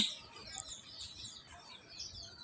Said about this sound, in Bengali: ওই যে পাখির ডাক শোনা যাচ্ছে।